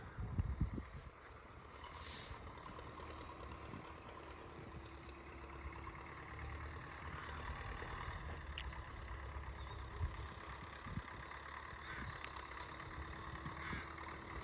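An MTZ tractor pulls a PLN plough through a field, its engine a steady, continuous low rumble at moderate distance with faint clanks, holding even loudness throughout.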